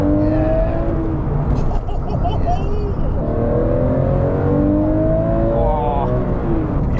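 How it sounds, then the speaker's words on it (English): Porsche 996 GT3 engine revving up through the gears, a raw rising howl that climbs repeatedly and fairly loudly, with a voice speaking over it in the cabin. "It's got the same sort of raw sound as the modern GT3 though."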